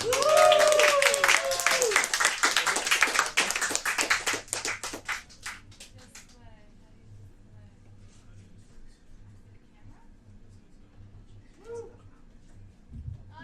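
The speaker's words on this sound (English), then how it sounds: "Please make a big round of applause for MacEachern." A pub room of people claps loudly for a stand-up comedian with whoops at the start, the applause thinning out and fading to scattered claps before a quiet stretch.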